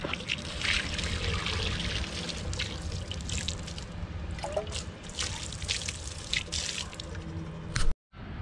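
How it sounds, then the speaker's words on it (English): Clean water pouring and dripping over a Honda Civic D16 valve cover as it is rinsed, a steady close trickle and splash with scattered drips, stopping briefly near the end. "Clean water."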